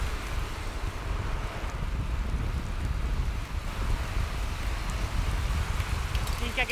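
A heavy downpour with wind outdoors, heard as a constant close rushing roar with low buffeting rumble throughout.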